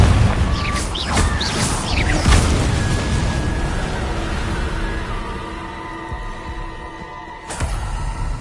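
A Confringo spell explodes in Hogwarts Legacy with a loud close boom and crackling bursts, followed by a long ringing tonal tail that fades and then a sharp impact near the end.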